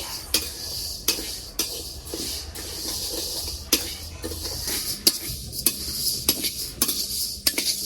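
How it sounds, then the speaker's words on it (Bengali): Moong dal being dry-roasted in a kadai, a metal spoon scraping and clinking against the pan in irregular strokes over a soft, steady sizzle, close by with no voices. "প্রথমে ডালগুলো লাল লাল করে ভেজে নিব।"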